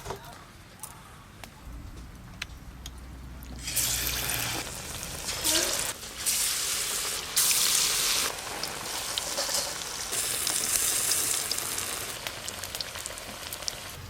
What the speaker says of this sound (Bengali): এবার কুমড়োগুলো বেসনে ডুবিয়েই ভালো করে ভেজে নেব